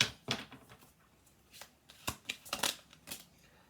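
Playing cards being riffle-shuffled a few times in a quiet room, each shuffle a short crisp burst of rapid flicking, several bursts spaced over a few seconds with no talking.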